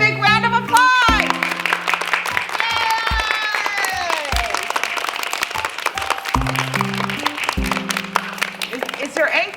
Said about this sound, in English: First grade, give yourselves a big round of applause.